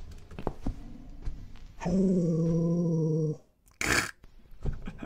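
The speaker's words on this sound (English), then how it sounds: "That's a weird dog." A video-game dog lets out one sustained, tonal growl lasting over a second, close and loud, followed by a brief harsh noise burst, with scattered thumps and clicks around it.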